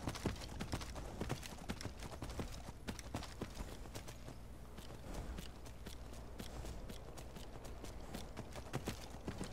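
Hooves of magic horses in a cartoon clip-clop in a brisk, continuous rhythm, loud and close, with dense overlapping footfalls throughout.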